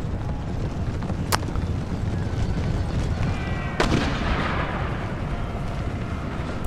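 Cannon fire in the strategy game Empire: Total War, with two distant booms standing out against a steady rumbling battlefield din.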